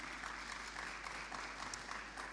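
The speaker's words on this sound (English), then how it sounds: "Let's give the presenters a round of applause" Faint, steady applause from an audience at a university science symposium, a brief continuous patter of clapping heard from a distance for a couple of seconds.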